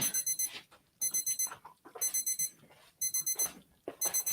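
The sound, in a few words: kitchen timer beeping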